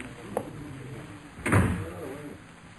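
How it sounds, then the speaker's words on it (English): In an old 1948 radio detective drama, a door closes with a single muffled thud after a faint earlier click, then a soft room hum continues with no one speaking. "Close the door, Crow."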